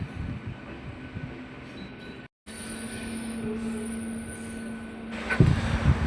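An EMU local train on the Howrah–Amta line pulls into Tikiapara station with a low rolling rumble and a sustained high wheel squeal, a brief dropout midway and a louder burst of clatter near the end.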